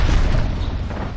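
A grenade in a shooter game bursts loud and close, a heavy booming blast that rolls off into a short rumbling decay.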